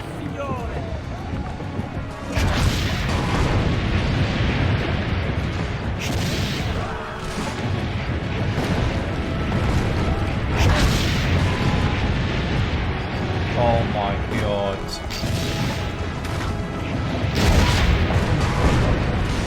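Heavy booming explosions and cannon blasts in the video game Assassin's Creed Brotherhood go off repeatedly over a constant loud rumble, with voices talking through the barrage.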